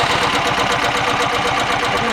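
A 14 hp Amtex Prowler engine runs close and loud with a fast, even chugging rhythm, a steady mechanical rumble filling the whole stretch without speech.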